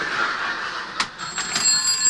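A telephone rings on stage during a 1989 amateur theatre performance of a play, a few short bright bell bursts heard at a modest distance in the hall, with no talk over them.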